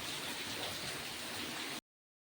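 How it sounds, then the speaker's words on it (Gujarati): Steady dense hiss of rain falling, even and unbroken, then cutting off abruptly into silence near the end. "વરસાદ થાય એની રીતના ઝીકે જ છે"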